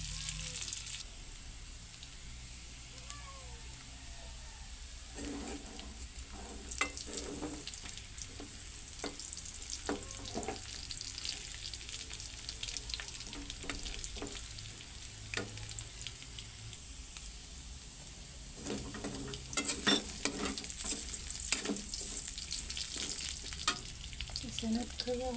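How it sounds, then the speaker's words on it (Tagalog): Garlic, onion and meat frying in a pan with steady close sizzling throughout, broken by frequent scraping and clattering stirs of a utensil, the frying growing a bit louder toward the end. "habang niluluto natin yung bawang at sibuyas ay maluluto pa rin naman dyan yung karne sa gilid"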